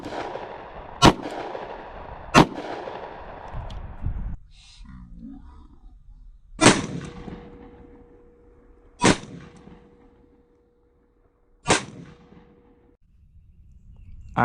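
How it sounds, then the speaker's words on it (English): SIG X Macro compensated pistol firing Liberty Defense 50 grain +P rounds at a concealable body armor T-shirt, five loud, sharp gunshots spaced a few seconds apart outdoors, each with a short ringing decay. "We're going to be shooting it out of our SIG X Macro compensated."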